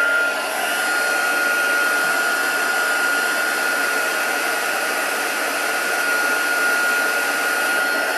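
A heat tool blows hot air in a continuous, even whoosh with a faint steady whine, close and unbroken for the whole stretch.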